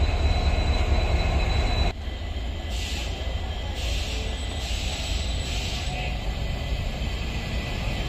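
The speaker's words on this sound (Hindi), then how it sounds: "फिर इसके बाद पी सेवन है W A P five three zero zero to seven superfast train के साथ" A WAP-5 electric locomotive hauls a superfast express train past at speed, giving a loud, steady roar of rolling wheels and rail noise with faint squeal bursts throughout.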